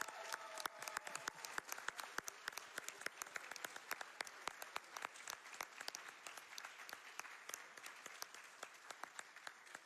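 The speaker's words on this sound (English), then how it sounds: "Round of applause." A crowd applauds continuously after a Super Mario Odyssey speedrun showcase at SGDQ 2022, dense clapping from many hands that holds steady for several seconds.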